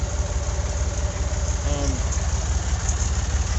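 A feed grinder's engine runs at a steady, loud, low idle-like drone, a continuous rumble throughout with no change in pace.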